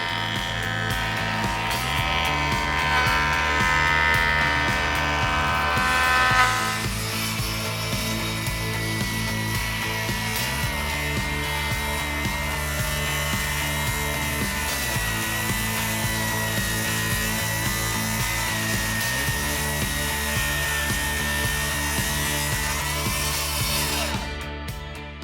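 A jointer or table saw cuts pieces of wood for a cutting board, the steady machine whine rising with a louder cutting pass near the start, then repeated rhythmic feeds every few seconds, loud and close with no talking.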